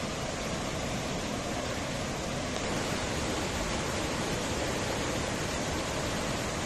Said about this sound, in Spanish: El encuentro de dos ríos en la comunidad de La Victoria, municipio de Yecuatla, en Veracruz